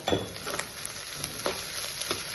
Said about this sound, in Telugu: బాగా ఫ్రై అయిపోయింది గుడ్డు కూడా